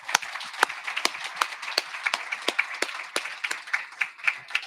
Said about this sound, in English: a big eagle round of applause